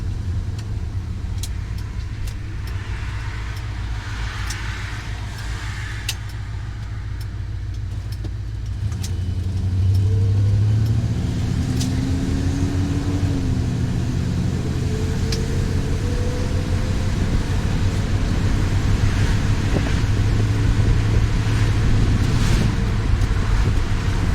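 A car with a newly fitted exhaust revs up for a neutral drop, a steady engine drone rising in pitch and loudness partway through and holding high, with wind noise buffeting the microphone throughout.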